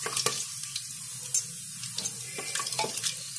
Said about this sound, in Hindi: मसाले में थोड़ा सा भून लेंगे। ताकि इसका अरोमा थोड़ा सा तेल में आ जाए।